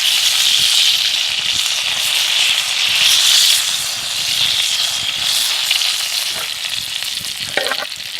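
A steak sizzles loudly in a hot pan, giving a steady, close crackling hiss that holds throughout with a few sharper pops near the end, and nobody speaks.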